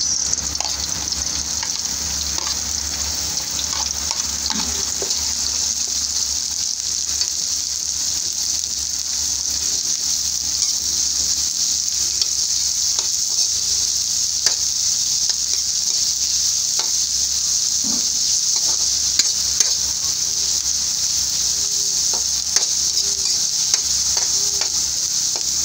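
Onions fry in a pan with a steady, bright sizzle that holds for the whole stretch, crackling with small pops and occasional stirring scrapes, close and unbroken with no talk.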